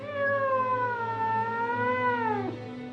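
A single drawn-out cat meow, clear and fairly close, bending downward in pitch at the end, with no other sounds around it.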